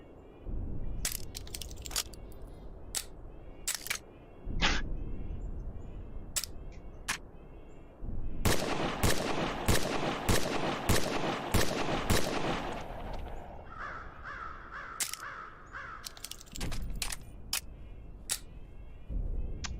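Gunshots from a modern firearm at a shooting range in Contractors VR: sharp, isolated cracks spaced a second or more apart, with a denser cluster of rapid shots in the middle, plus faint mechanical clicks from handling the weapon.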